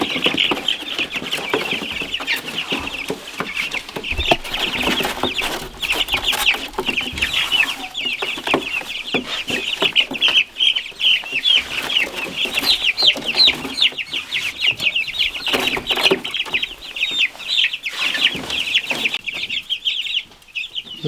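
A flock of Cornish cross meat chickens on a homestead cluck and chatter continuously, close and busy, with overlapping soft calls throughout.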